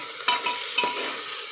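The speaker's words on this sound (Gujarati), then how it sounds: "આપણે એને સરસ હલાવી દઈશું" Tomato masala stirred in a hot pan, a couple of quick scraping strokes over a steady frying sizzle, close and short, with no voices.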